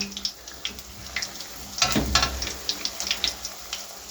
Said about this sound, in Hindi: एक साइड इसकी अच्छी तरह फ्राई होने देना।